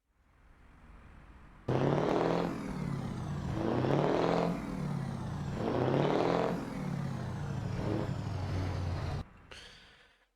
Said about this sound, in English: Truck exhaust.